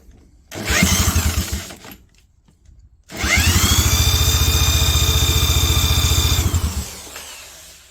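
A small pull-start trike engine turns over briefly, stops, then runs steadily for several seconds in a loud, close buzzing drone before cutting out.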